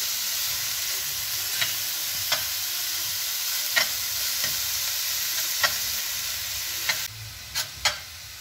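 Onions sauté in a pan over a medium flame for kottu parotta, giving a continuous bright sizzle with a handful of sharp spatula taps spaced a second or so apart, close and alone.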